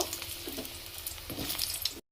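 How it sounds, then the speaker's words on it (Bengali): Pieces of elephant foot yam fry in hot oil for a village-style yam and chicken dish, giving a steady close sizzle with a few soft bumps from stirring. "প্রথমে এই টুকরো করে কেটে রাখা ওলগুলো দিয়ে ভেজে নেব"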